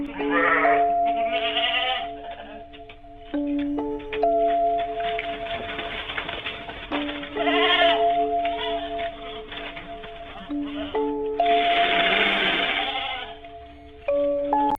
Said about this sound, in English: captured by a farm security camera monitoring a sheep pen